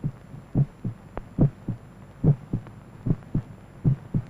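A pounding heartbeat sound effect from a 1949 film thumps in steady double beats, low and close, about ten beats with no other sound.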